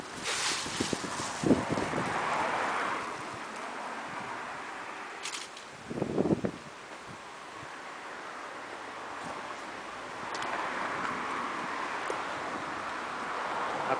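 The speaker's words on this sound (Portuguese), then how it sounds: "Aí olha só o vento" Autumn wind gusting through trees and rustling fallen leaves outside a building entrance in Osnabrück on a sunny day, a steady broadband rush with swelling gusts and a brief nearer crackle midway.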